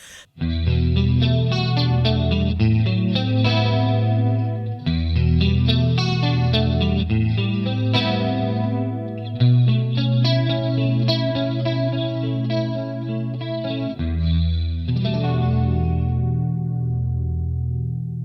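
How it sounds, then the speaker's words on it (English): Electric guitar chords shimmer with a wide chorus effect, played in sustained strums with slight grit, loud and close, no voices. "Then we have chorus, which I'm sure you know what chorus sounds like."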